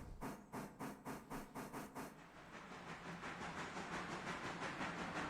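Steam locomotive in the Railroader video game rolling along, opening with a run of rhythmic chuffing pulses that give way to a steady, dense hiss and rumble of the train moving.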